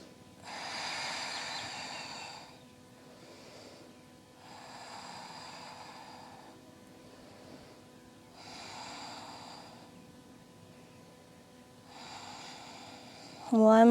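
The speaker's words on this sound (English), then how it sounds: "5 breaths here, come back to your breathing." Deep, slow yoga breathing heard close up, with four long airy breath cycles a few seconds apart and softer gaps between them, ending in a brief louder sound.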